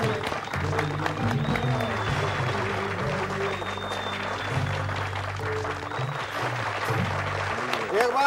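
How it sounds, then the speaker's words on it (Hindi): An audience at a ghazal singer's television appearance claps steadily throughout, with someone talking over the applause and faint music underneath. "एक बार जोरदार तालियां बजाइए"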